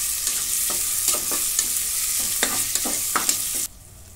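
Chopped onion frying in oil until reddish for masala rice: a continuous bright sizzle with regular scraping strokes of a stirring spoon, stopping abruptly near the end.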